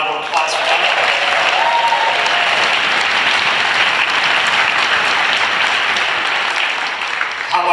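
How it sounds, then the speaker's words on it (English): Audience at a rally for unity and justice applauding, loud sustained clapping from a sizable crowd that holds steady throughout before tapering slightly at the end. "Can we have a round of applause for them?"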